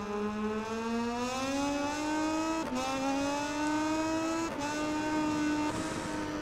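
A racing motorcycle in MotoGP 19 accelerates hard through its gears at the Qatar circuit, a rising engine whine broken by quick upshifts, loud and continuous with no voices.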